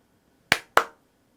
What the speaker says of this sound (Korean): 이렇게 손으로 박수를 2번 치면